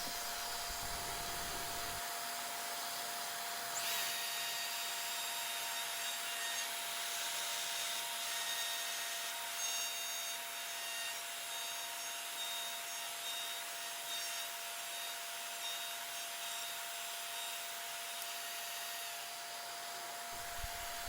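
A router fitted with a 1/2-inch straight bit cutting into a plywood template, a loud continuous whining roar held steady for about twenty seconds, with the cutting tone shifting slightly as the bit moves through the wood.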